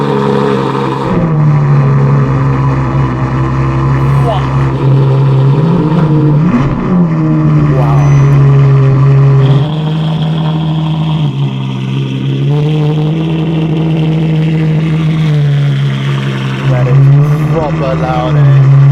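A Novitec Ferrari F12 N-Largo's engine revs loudly and steadily close up for the whole stretch, the pitch rising and falling in repeated pulls, with a person talking over it.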